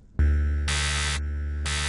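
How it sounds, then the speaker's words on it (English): A square wave synth patch in NI Massive played as sustained notes, a loud buzzy hollow tone starting abruptly, its bright upper harmonics switching on and off in alternating sections, with no talking. "As you can see, square wave is just messy."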